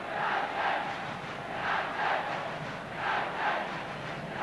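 Leeds and Manchester United football fans chanting from both ends of the ground, a rhythmic swelling crowd chant that rises and falls in repeated waves, steady and fairly distant.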